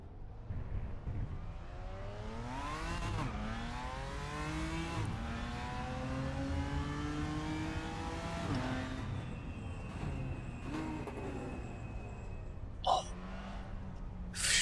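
BMW M4 GT4 race car engine in the RaceRoom sim at the Nürburgring GP circuit, revving up through gears with rising and falling pitch sweeps, loud and continuous, with a brief sharp clatter near the end.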